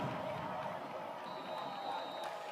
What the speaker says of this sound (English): Saints crowd making a little bit of noise here on 4th and 1